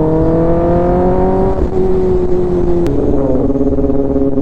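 A Kawasaki ZX10R 1000cc motorcycle engine drones loud and close at steady revs, dropping in pitch as the clutch is pulled for a gear change, then settling into a lower steady hum with no talk.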